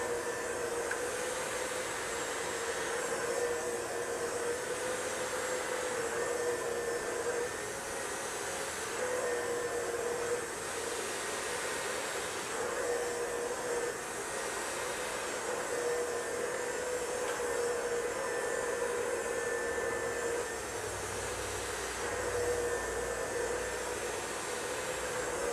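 A Neuro Dry hair dryer blows steadily while hair is being styled, a loud continuous whooshing drone with slight periodic swells from the brush or nozzle moving, unbroken and without any voices.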